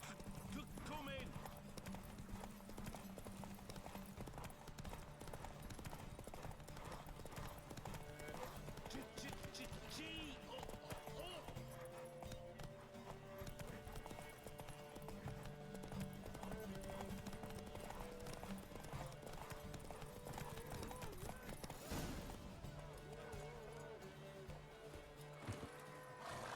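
Horse hooves clip-clop at a rapid galloping pace with occasional whinnies in The Witcher 3, layered under music and game sound effects, with people talking over it.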